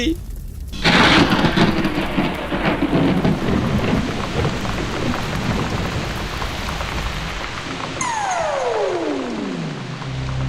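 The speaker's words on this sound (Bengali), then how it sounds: "বৃষ্টিতে ভিজে বেচারামের গায়ের আগুন নিভে গেছে।" Heavy rain pours steadily with deep rolling thunder in an animated Bengali folk story, loud and continuous throughout, ending with a sliding tone that sweeps downward.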